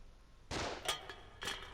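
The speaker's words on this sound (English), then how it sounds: "Gunshots, that's always good." Gunshots in the horror video game The Evil Within: a loud sharp blast followed by two more cracks, each with a short ringing decay, over a quiet low hum.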